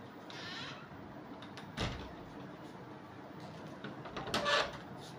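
A room door being swung shut, a soft rubbing slide followed by a dull closing thud and a brief rattle, close and fairly faint over steady room noise.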